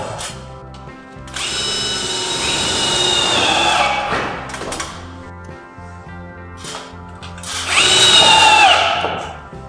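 Power drill driving screws into a chalet roof during assembly, several loud whirring bursts that rise and stop, repeating in separate runs, close to the microphone.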